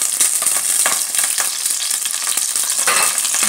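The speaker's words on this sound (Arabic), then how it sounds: "نخلوه حتى يتقلى مليح" Chicken pieces frying in hot ghee and oil, a loud close bubbling sizzle with scattered crackles and spatters, steady throughout with no voices.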